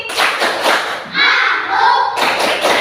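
Schoolchildren in a classroom do the concentration clap (tepuk konsentrasi), a short run of sharp, close rhythmic claps and thumps blended with voices calling out together.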